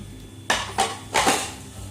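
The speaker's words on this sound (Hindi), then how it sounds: "डाल दिया पतीले में कीमा और इसके ऊपर हमने ये प्याज भी डाल दिए हैं।" Minced beef, onions and tomatoes tipped into a cooking pot for a dhaba-style aloo keema, giving three clattering metallic knocks against the pot a few tenths of a second apart, fairly close, with no talking.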